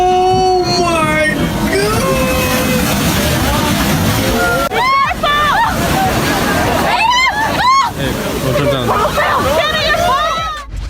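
Huge storm-driven ocean waves, strong enough to strike a small village in southern Italy, roar and surge as a steady, loud wash, almost buried under excited shouting and crowd voices throughout.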